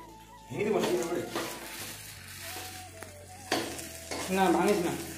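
Food sizzles and crackles in a pan in a home kitchen while people talk over it, the frying noise staying steady and moderate under the voices.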